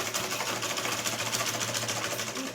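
A sewing machine runs steadily while stitching the lining of a child's lehenga, a continuous even whirr with a rapid mechanical pulse, close and loud, with no talking.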